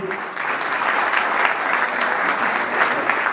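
Sustained audience applause fills a hall at a 14 January Defenders of the Motherland Day ceremony, swelling in after a quiet start and staying dense and even for a few seconds without talk.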